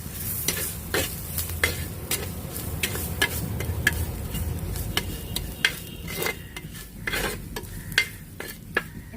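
A spoon stirs Kottayam-style tuna fish curry masala in a pan, scraping in steady irregular strokes over a soft sizzle, close and alone with no voices.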